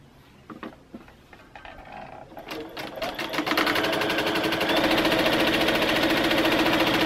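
A sewing machine stitches fabric strips together for a quilt block. A few clicks and short runs lead into a loud, steady, close motor hum that continues to the end.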